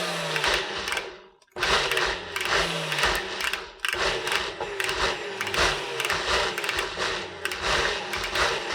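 Blender pulsing ingredients for a spread, with a series of short, loud motor bursts in quick succession, each one whirring up and stopping, close by and with no talk over it.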